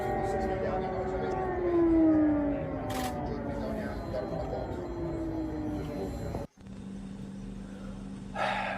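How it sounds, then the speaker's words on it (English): Air raid sirens wail over downtown Kyiv in a broadcast feed, a long rising and falling tone carried steadily through, cut briefly near the end before a steady hum resumes. "These are sirens coming through"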